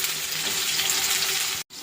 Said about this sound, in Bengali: তো চলো বেগুনটা ভাজা হয়ে যাক